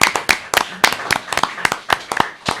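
Applause from an audience for the crew behind an event's sound setup, heard as a brief burst of separate, uneven hand claps, fairly close and moderately loud, with some voice mixed in.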